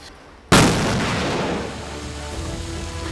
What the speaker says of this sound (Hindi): जिसमें छोटे छोटे कंट्रोल धमाके किए गए